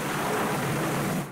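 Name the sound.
thunder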